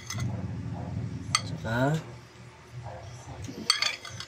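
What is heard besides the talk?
mixing kilawin with onion, spoon clinking in bowl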